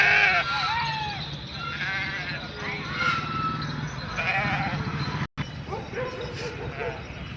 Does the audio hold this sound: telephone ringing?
no